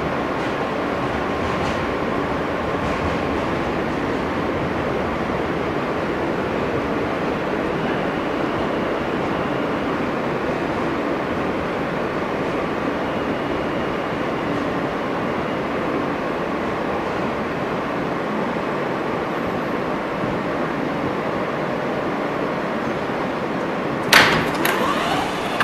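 Steady interior rumble of an R160 subway car on the F line running along the West End and 4th Avenue route, with a continuous rolling roar throughout and a brief door clunk and chime near the end.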